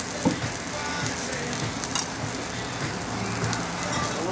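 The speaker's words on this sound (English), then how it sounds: "Get a pan nice and hot, a little butter, a little cream." Butter and cream sizzle hard in a very hot pan, a loud, close, continuous hiss with crackling bursts and small pops.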